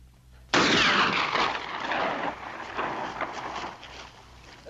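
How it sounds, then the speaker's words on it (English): A loud gunshot bursts out sharply from near silence, its broad blast trailing off into a rumbling echo that decays over several seconds, from a 1956 Lone Ranger western. "The next shot's for that box of dynamite"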